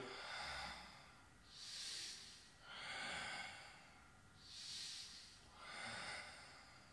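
A person exercising for the lower back exhales in four slow, breathy puffs, evenly spaced, close and fairly soft, with no talking.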